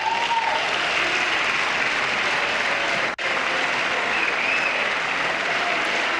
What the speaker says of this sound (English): the first time of the night that pretty much every Democrat stands up and applauds